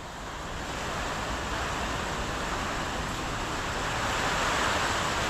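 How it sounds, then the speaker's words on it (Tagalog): Floodwater from Typhoon Uwan rushes into a house, a steady loud broadband roar of flowing water that swells slightly and runs on without a break, with no voices. "Ayan po, tuloy-tuloy ang pagtaas ng tubig. Nandito na sa loob ng bahay ko."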